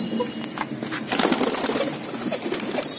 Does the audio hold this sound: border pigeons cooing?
yes